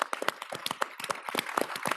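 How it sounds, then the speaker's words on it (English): An audience at a US-Japan policy dialogue event claps for the staff and catering team, giving steady, dense applause that continues through the whole moment. "So if you'll join me in giving them a round of applause."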